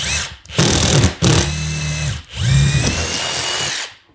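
A power drill bores a hole through a shed wall for a mini split line set, loud and close, in three whining bursts separated by short pauses, with no talking.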